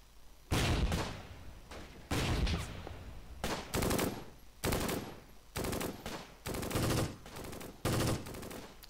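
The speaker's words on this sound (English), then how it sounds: "we're catching fire from the enemy mortar here on our MG and Pack 40 position" Bursts of machine-gun fire and heavy mortar impacts from a Close Combat: Gateway to Caen battle, striking an MG and Pak 40 position, arrive in roughly eight loud clusters over nine seconds with brief gaps between them and no talk.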